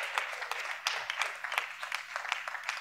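Audience applause after an introduction at a Truth and Reconciliation webinar, a steady patter of many hands clapping at moderate volume, fairly distant and slightly thin, continuing throughout.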